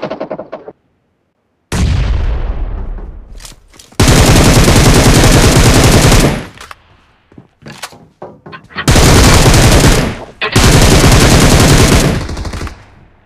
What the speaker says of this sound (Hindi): कवर फायर दे मेरे को